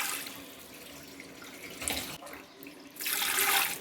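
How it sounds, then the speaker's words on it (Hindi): Water poured from a glass into a pressure cooker holding spices, for a mutton paya broth; a steady close splashing pour that swells louder near the end, with no talking. "अब इसके अंदर पानी शामिल करूंगी मैं"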